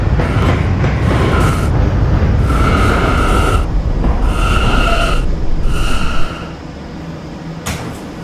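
An R179 subway D train in the Roblox game rumbles along steadily with rattling wagon noise and repeated door chimes or tones, the rolling noise dropping slightly toward the end.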